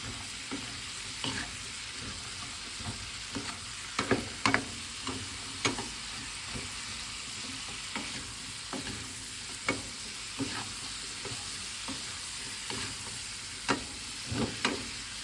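Bottle gourd (upo) sautéed with meat in a pan gives a continuous close sizzle, broken by frequent spatula scrapes and taps that come in irregular bursts, with no one speaking.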